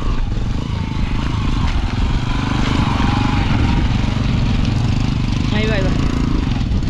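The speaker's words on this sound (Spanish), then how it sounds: "No va a subir la moto acá." A motorcycle engine labors loudly up a gravel hill in Mendoza, a continuous close, straining drone, with a person's voice breaking in briefly near the end.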